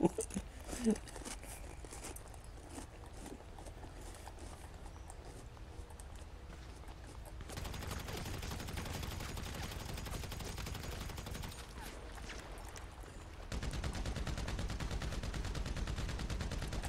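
Combat MG machine gun fire in a PS3 video game rattles on in dense continuous bursts, the volume stepping up in stages as firing intensifies, under a constant harsh wash of noise.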